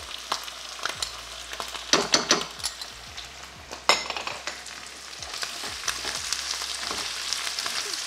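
Chicken sausages, onion and red chili paste stir-fried in a pan, with a steady sizzle punctuated by irregular scraping and clinking stir strokes, louder bursts around the middle, no talking.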